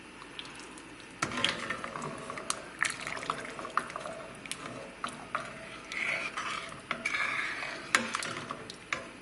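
Sour cream being stirred into a vegetable-heavy Hungarian mushroom soup gives a steady run of wet swishing and sharp spoon clinks against the pot, close and fairly quiet.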